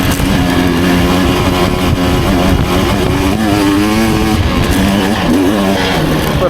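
A 2024 Husqvarna TE 300 dirt bike engine revs loud and close, its buzzy two-stroke note climbing and dipping in pitch as the throttle rises and falls, running continuously throughout.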